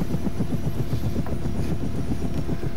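A medium utility helicopter in ArmA 3 flies with a loud, close, continuous rotor chop, its rapid, even blade thumps steady from start to finish over a constant engine drone.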